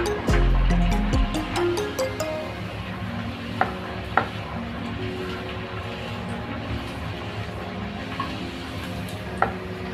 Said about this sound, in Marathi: आता आपलं तेल तापलेलं आहे, आपण त्यात पुरी टाकून तळून घेऊ